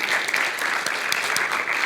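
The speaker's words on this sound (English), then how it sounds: "let's give Gabby and the team a round of applause" An audience claps steadily for Gabby and the team, a dense and even burst of applause heard close and alone.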